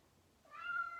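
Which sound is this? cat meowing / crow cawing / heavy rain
cat meowing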